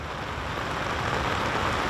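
Heavy rain pours down during a flood event in Brisbane, a dense, loud, unbroken hiss of drops striking surfaces that holds steady from start to finish.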